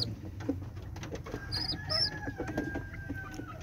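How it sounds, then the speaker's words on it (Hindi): A brood of four newly hatched chicks gives a few thin, high peeping chirps in short bursts over a low background murmur. "ये हैं जी 4 चूज़े माशाल्लाह से"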